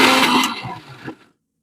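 A kitchen mixer grinder whirs loudly as it grinds garlic and cumin, a dense steady roar lasting about a second before it tapers off and stops.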